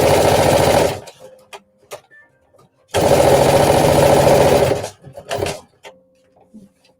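A home sewing machine edge-stitches the top of a pocket on a flared dress, running in two steady motor bursts of about two and three seconds each, with quiet handling clicks and brief pauses between them.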